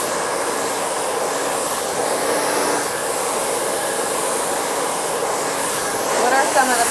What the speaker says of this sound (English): What are some of the common mistakes you see with people blow drying their own hair?